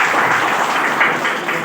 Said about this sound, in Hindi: एक बार उन गुरुओं के लिए ताली बजाऊंगा उनके सम्मान में।